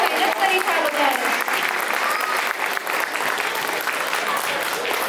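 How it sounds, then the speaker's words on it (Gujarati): Sustained audience applause at a Diwali cultural performance in a hall, steady dense clapping from a large crowd that fills the whole stretch at an even, loud level. "તાળીઓ પાડો મિત્રો, જરા તાળીઓ પાડો"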